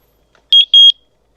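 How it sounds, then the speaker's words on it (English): Two short, loud electronic beeps from a eufyCam S3 Pro wireless security camera as its sync button is held, each a steady high tone with a brief gap between, clean and alone in quiet. "Press the sync button until you hear the beep."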